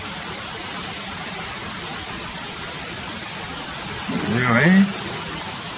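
Steady rain hisses as an even wash of noise over Vila Regina, Itaquera, São Paulo, with someone speaking briefly near the end.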